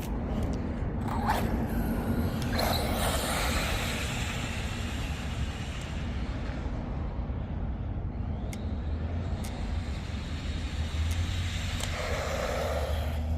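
A small 1/14-scale Typhon GROM BLX RC car's motor whines in the distance, rises as it speeds closer at about 50 mph and fades away again over a constant outdoor rumble.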